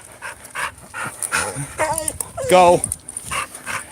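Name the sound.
dog panting and whimpering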